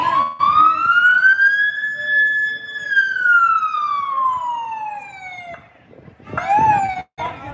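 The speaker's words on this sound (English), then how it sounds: "once he heard a cop siren" A police car siren wails loudly and steadily, its tone sweeping slowly up and then gliding down over several seconds, cutting off before a brief final burst, heard at an anti-communism protest in Riverside, California.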